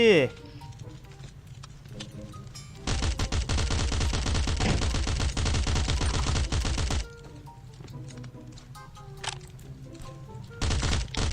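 Heavy automatic gunfire crackles in Last Island of Survival, a long sustained burst of rapid shots in the middle and a shorter burst at the end, with someone talking over the quieter stretches.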